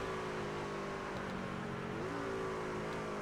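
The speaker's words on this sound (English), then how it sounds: "You can hear him downshifting in the middle of that corner" A race car in a racing video game drops through the gears mid-corner at a championship race, its engine a steady, loud, continuous drone with a brief pitch change from the downshift, heard alone without talk.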